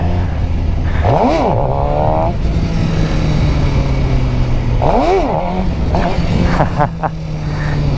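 A stock Suzuki GSX-R 600 sportbike revs in two sharp rising-and-falling throttle blips during wheelie practice on a road, then settles into a steady drone, loud and close with wind noise.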